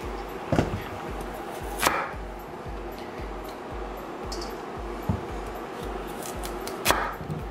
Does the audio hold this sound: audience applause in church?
no